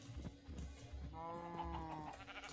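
A Minecraft sheep gives one drawn-out, wavering bleat over a quiet background of game noise.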